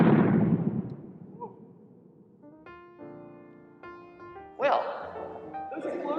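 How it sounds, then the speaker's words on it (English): Chemical combustion explosions from three combined ingredients: a sharp burst at the start that fades out, then a series of crackling pops and whistling, firework-like bursts, heard at moderate distance. "those explosions might have reminded you of fireworks"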